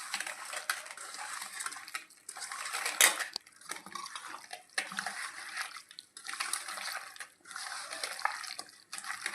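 A spoon scrapes and clanks against a metal pot while turmeric is stirred into a green chicken biryani mixture, giving repeated irregular stirring strokes and utensil knocks, close and moderately loud.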